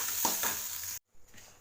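Curry leaves sauté in a pan with a close, steady sizzle and some stirring scrapes, then a brief silence before the frying hiss resumes more softly.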